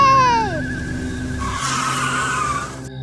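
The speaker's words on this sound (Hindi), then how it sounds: "ये तुमने गाड़ी रोक क्यों दी अचानक?" A cartoon vehicle skids to a sudden halt on a village road, its tires squealing loudly in a single long, close screech that drops in pitch before cutting to near silence.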